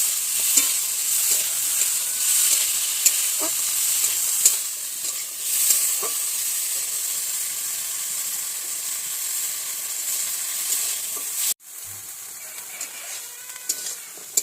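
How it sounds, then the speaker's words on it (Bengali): Chopped garlic and chili, seasoned with turmeric and salt, fry lightly in a pan with a continuous close hissing sizzle, punctuated by occasional utensil taps and scrapes; the sizzle briefly cuts out before resuming. "রসুন আর লঙ্কা একসাথে দিয়ে একটু হালকা ভাজা করবো"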